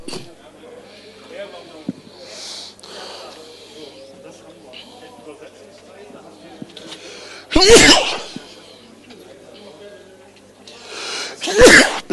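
Two sharp, loud sneezes burst out several seconds apart against a quiet room with murmured talk and faint background noise at a live news broadcast setup.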